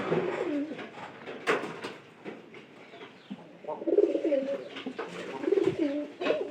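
Pigeons coo in low, throaty bursts, a few calls rising and falling in close succession with some soft shuffling and background rustle between them.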